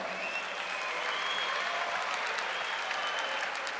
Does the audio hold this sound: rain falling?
no